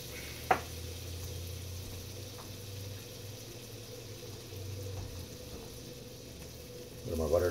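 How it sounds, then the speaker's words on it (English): Salted butter and oil shallow-fry toutans in a cast iron pan, giving a faint, steady sizzle throughout with one small clink near the start. "because you almost want to do a little shallow fry"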